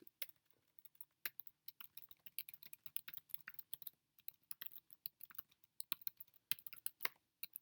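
Rapid, irregular keystrokes on a computer keyboard, quiet and close, clicking along in uneven bursts with short pauses, no voices.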